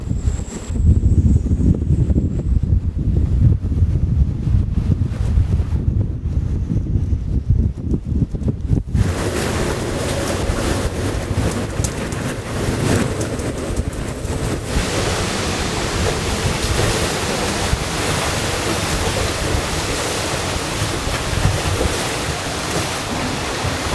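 Cyclone winds of around 40 knots roar around a boat, a loud continuous buffeting rush with heavy gusts battering the microphone and waves surging beneath, unbroken and close.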